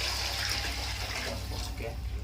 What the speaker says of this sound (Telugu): next water పోసేద్దాం